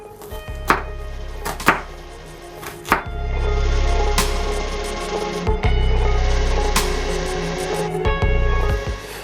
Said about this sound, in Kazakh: биз пиязды майда кылып туурайбыз дагы, аны бир аз майда кууруп алышыбыз керек